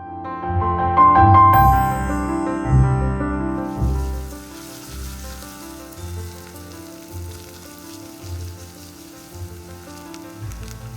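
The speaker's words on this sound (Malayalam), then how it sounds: "ഇനി നമുക്കതിലേക്ക് ഇഞ്ചിയും വെളുത്തുള്ളിയും ചതച്ചതിട്ടിട്ട് നല്ലപോലെ ഒന്ന് മൂപ്പിച്ചെടുക്കാം." Crushed ginger and garlic sizzle in hot coconut oil, a soft, steady crackle that grows clearer after the first few seconds under prominent background music.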